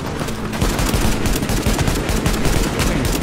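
Sustained rapid automatic gunfire in The Division during the Madison Field Hospital mission, dense and continuous shots close up and loud throughout.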